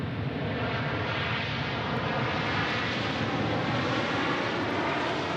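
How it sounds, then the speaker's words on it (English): A Boeing 737-800 jet lands on a long runway at Dallas Love Field in snowy weather, producing a steady, loud broadband engine roar with rushing spray that holds constant throughout. "Using that whole runway. See, that's why I came to the south side, the longer runway. It's a 737-800."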